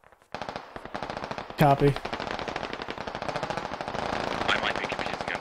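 Rapid automatic gunfire from a military shooter game, SquadOps, rattling continuously throughout with a louder burst near the start, while a voice briefly speaks over the shooting.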